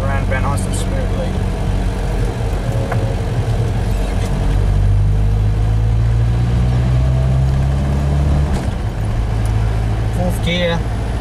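A car rolls slowly around a roundabout at night, its engine a low, steady drone with road rumble that holds throughout, while a person talks over it almost continuously.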